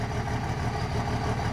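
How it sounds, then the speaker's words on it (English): A cold Cummins diesel engine swapped into a tow truck idles in a steady, close, low rumble with an even, unbroken rhythm and no voices throughout. "I love the Cummins idle when it's cold."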